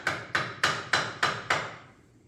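Six sharp hammer taps, evenly spaced and close, knocking a part back into place on a War Machine build, each strike ringing briefly before the next, with no talk.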